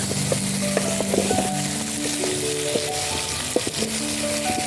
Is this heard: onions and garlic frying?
yes